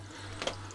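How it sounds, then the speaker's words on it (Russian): A steady low well pump motor hum with a faint, continuous wash of flowing water and a brief splashy burst midway. "Вода идет."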